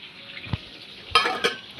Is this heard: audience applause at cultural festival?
no